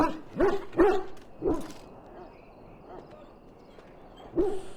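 A dog barks in the fantasy role-playing game Dragon Age: Origins: a few sharp close barks in quick succession, then a quieter stretch with low whimpering, and one more bark at the end.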